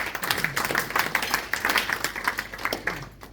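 A small group at a club meeting claps for a young shot put thrower, a modest round of distinct, uneven handclaps close by, sustained without voices.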